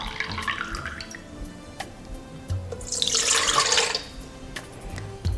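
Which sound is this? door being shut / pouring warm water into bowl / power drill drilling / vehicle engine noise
pouring warm water into bowl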